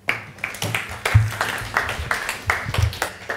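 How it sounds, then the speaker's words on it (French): An audience claps and applauds for a presenter walking onto the stage at a 2023 ESG report presentation; a steady patter of many hands, fairly close and sustained throughout. "Vous pouvez l'applaudir."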